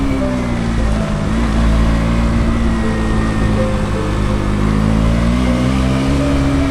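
Motorcycle engine on a solo ride from Deoghar to Ranchi, a loud, steady drone close up for several seconds with slight rises in pitch and wind rush, no talking.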